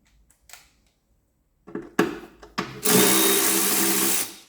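A 10mm socket undoes a bolt during wishbone replacement on a Mark 5 Ford Mondeo, with a few scraping clicks followed by a loud, close whirring burst of about a second and a half.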